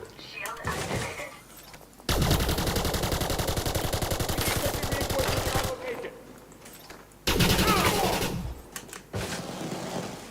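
The Eclipse weapon in Elite Dangerous fires loud, rapid automatic rattling in two sustained bursts separated by quieter gaps, with a short burst at the end.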